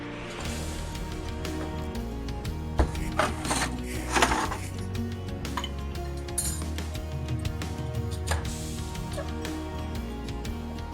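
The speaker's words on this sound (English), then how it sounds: "So we're going to stir this right over a large block of ice." A cocktail being stirred in a glass over a large block of ice, with steady clinking and scraping that runs continuously throughout, fairly close.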